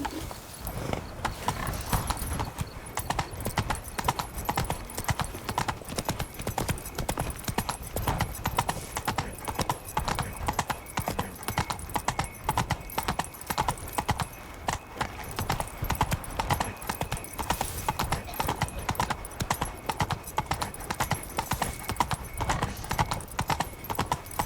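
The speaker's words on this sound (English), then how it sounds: "Come on, Roach" Roach, a horse in The Witcher 3: Blood and Wine, trots with a steady rhythmic clip-clop of hooves close by, with an occasional snort and a voice speaking briefly.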